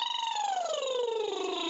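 A single human voice imitates a siren, a smooth sustained tone gliding steadily downward in pitch, heard alone and close for under two seconds.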